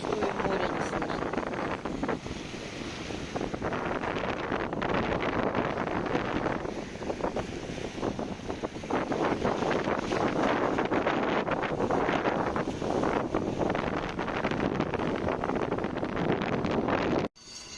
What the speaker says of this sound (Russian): Такой ветер, что и море не слышно.